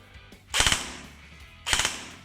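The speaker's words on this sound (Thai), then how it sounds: "ทีนี้เรามาลองลองยิงเซมิดูนะฮะ" Airsoft BB gun with a Top Board FC-40 fire-control board in a V2 gearbox, test firing: two short rapid bursts of a few mechanical cracks each, loud and close, separated by a brief pause.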